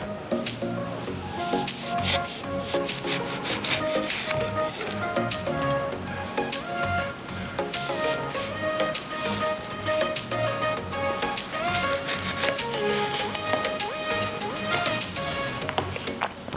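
A knife slices through a washed orange on a cutting board, giving steady repeated cutting and tapping strokes for a sustained stretch, close and fairly loud, with no talking.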